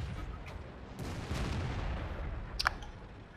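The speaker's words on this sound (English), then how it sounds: "There, I trade another round of shots with the M6." Tank cannon shots exchanged between a T 150 and an M6 in the World of Tanks video game, two heavy booming blasts over a rumbling engine background, fairly close.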